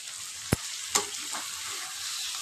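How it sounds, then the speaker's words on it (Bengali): A spoon stirs katla fish head and potato kalia in a pan, two quick scraping knocks over a soft, steady frying hiss. "এটাকে একটু নাড়িয়ে তারপর আমি জল দেবো"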